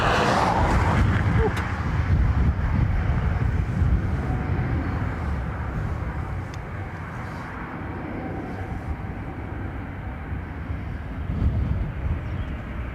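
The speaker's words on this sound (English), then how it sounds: "787-800 Dreamliner off to Philadelphia." An American Airlines Boeing 787-800 Dreamliner takes off at Dublin Airport on a windy day, a loud broad jet roar that gradually eases as it climbs away, with wind buffeting the microphone.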